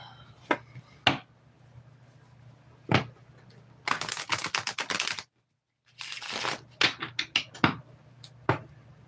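Tarot cards are shuffled and drawn close by: sharp isolated taps and snaps, then two dense bursts of rapid riffling split by a brief silence, followed by more scattered card slaps over a faint steady hum.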